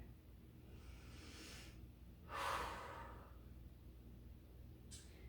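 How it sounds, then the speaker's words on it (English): A person breathing during a basic yoga flow, with one soft, airy exhale swelling and fading in the middle and a fainter breath near the end, close and quiet over low room hum. "And exhale here."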